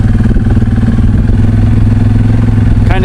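A four-wheeler ATV rides through woods along a fence line over rough terrain, its engine loud and close with a steady, throbbing low drone and rattling clatter throughout, without any talking.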